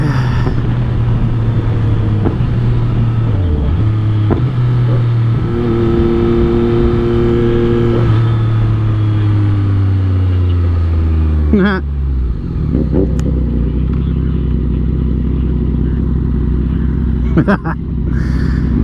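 A 2022 Yamaha MT-09 motorcycle with an ECU tune pulls hard through the gears, its engine note rising, dropping at shifts and climbing again, loud and close, then settling into a lower drone near the end.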